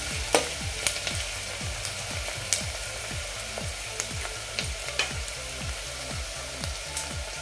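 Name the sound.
onion sautéing in pan for mixed dal amti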